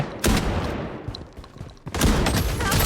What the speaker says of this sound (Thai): ปืนอะไรวะเนี่ยปืนพก มันแรงอะไรเช่นนี้